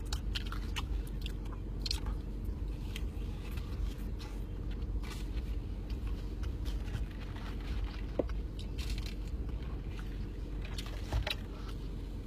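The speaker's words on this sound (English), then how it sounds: "You notice I'm chewing more" Steady close chewing and biting on a burger patty topped with veggies and onion, wet crunchy mouth sounds repeating throughout with a few sharper crunches, no talking.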